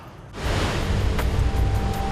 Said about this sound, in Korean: 이게 폭포 소리가 들리네요